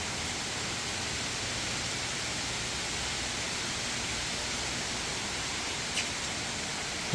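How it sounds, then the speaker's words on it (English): Steady rain pours down at Magic Kingdom in Orlando, a dense, even hiss that holds unbroken and fairly loud throughout, with no voices over it. "we did request some rain."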